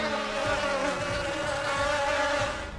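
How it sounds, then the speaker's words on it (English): A steady, dense insect buzz, like many bees swarming close by, droning continuously and fading slightly at the end. "guess what she brought as a housewarming gift? A swarm of gigantic killer bees!"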